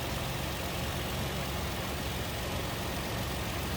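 A 2007 Toyota FJ Cruiser with a 4-liter variable-valve V6 idles smoothly, a steady low engine hum under broadband noise, with no talking.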